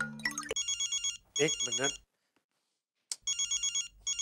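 A phone ringtone chirps in repeated electronic bursts, stops while a voice speaks briefly, then starts ringing again after a short silence.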